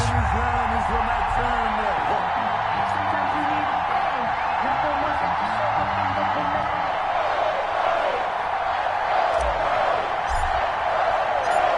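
A stadium crowd roars steadily throughout an American football video game matchup between the Dallas Cowboys and New York Giants, a dense continuous wash of cheering beneath a commentator's voice.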